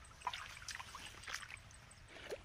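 Borewell water trickles into a chilli field on a farm, a faint, irregular dribbling and splashing heard close up and quiet throughout.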